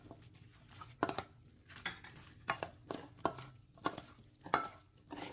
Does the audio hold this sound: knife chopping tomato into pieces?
yes